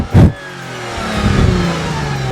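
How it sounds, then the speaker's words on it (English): A luxury performance car in sport mode launches hard, a thump followed by a loud, rising engine roar that builds steadily as it accelerates, close and with no talk. "Good takeoff. This engine has a lot of power."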